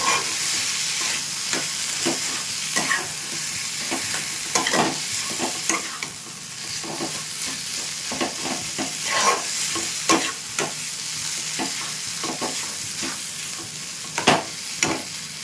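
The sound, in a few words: frying and stirring spiced potato filling in a pan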